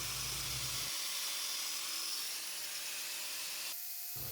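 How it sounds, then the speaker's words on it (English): Paint is stripped off the end of a steel tank spinning on powered rollers, giving a steady, loud abrasive rasp that runs continuously and shifts in tone near the end, with no voices. "spin it on my rapid rollers and I can spiral inward to get all this paint off the end"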